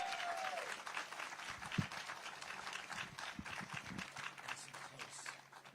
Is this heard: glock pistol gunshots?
no